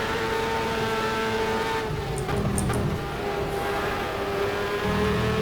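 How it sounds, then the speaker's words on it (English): A race car engine in Superleague Formula 2009: The Game drones at high revs at Donington, holding a steady whine that rises slightly with push-to-pass adding 1000 RPM, with a brief squeal in the middle. "Push to pass gives you just a little bit of extra revs, 1000 RPM extra."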